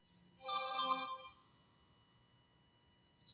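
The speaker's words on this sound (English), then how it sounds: "Oh, somebody texted me" A phone text message notification chimes once, a short, clear electronic tone with several ringing harmonics that fades quickly, faint in a quiet room with no talk over it.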